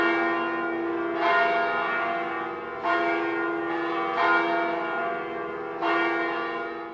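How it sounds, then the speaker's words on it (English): Church bells ring out across Burlington, four resonant strikes at slow, even intervals, each blooming into a long humming decay that overlaps the next. "the sound of the bells seems to transcend time"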